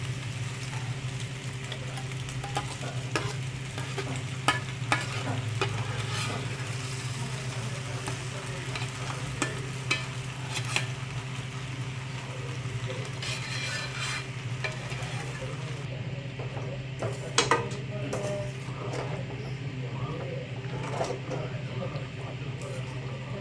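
Pasta being stirred and fried with masala in a pan, a steady sizzle running throughout with scattered clinks and scrapes of the spoon, no words spoken.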